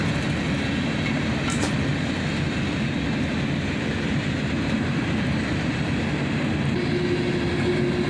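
An old chassis-system covered hopper car rolls past in a freight train, a steady, loud broadband rumble of wheels and rail noise filling the whole stretch without letup.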